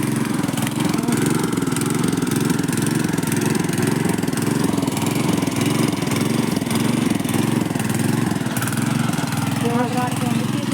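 A tractor engine carrying a plough runs steadily on the way to a village farm field for maize sowing, a loud constant mid-pitched drone with a rhythmic chug, close by and without pause.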